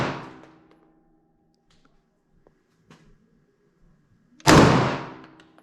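Two loud, sharp gunshots from a firearm at an indoor shooting range in Riga, one at the start and a second later. Each blast is followed by a decaying echo, with faint handling clicks between them.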